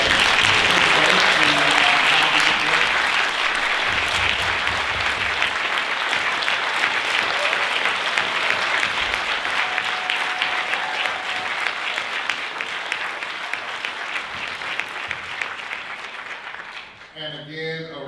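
Sustained applause from an audience at a teachers' panel event, honoring the volunteers and organizing committee: dense, loud clapping that holds for many seconds, then gradually thins and fades toward the end.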